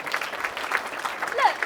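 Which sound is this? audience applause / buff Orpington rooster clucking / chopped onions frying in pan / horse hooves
audience applause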